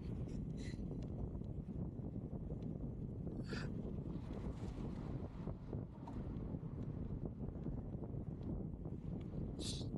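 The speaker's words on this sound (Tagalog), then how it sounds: "tsaka malakas yung hangin kasi" Strong wind buffets the microphone in a constant low roar with gusty rumble, loud and steady throughout, no voices.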